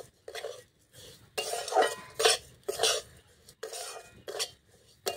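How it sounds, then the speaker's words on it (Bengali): A utensil stirs sugar into semolina and nuts in a pan, rhythmic scraping and clinking strokes coming in repeated bursts close by, with no talking. "দেখুন চিনিটাও ভালো করে মিশিয়ে নিয়েছি"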